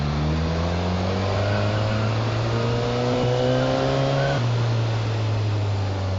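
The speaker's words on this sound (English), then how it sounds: "I'm just going to pull the throttle a slight bit now as I weave through the traffic" A motorcycle accelerates in traffic with a slight throttle opening, its engine note rising in stepped climbs through the gears, steady and close, with continuous wind rush underneath.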